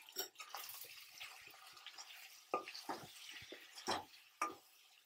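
Mutton fry being stirred in a pan, a steady sizzling hiss broken by several sharp scraping clacks of a spoon against the metal, close and with no one talking.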